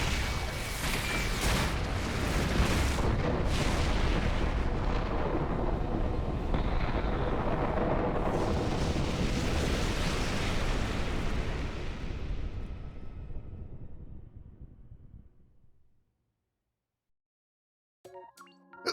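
Missile launch explosions in a video game: a long heavy roaring rumble of blasts and booming bursts that gradually fades out to silence, followed by a few faint clicks at the end.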